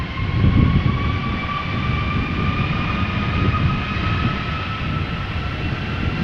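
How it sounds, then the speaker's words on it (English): Airbus A330-300 jet on a departure for Istanbul at Amsterdam Schiphol, a steady loud roar of engines with sustained whining tones running continuously throughout, with no talk. "Going back to Istanbul, flight 1958, A330-300"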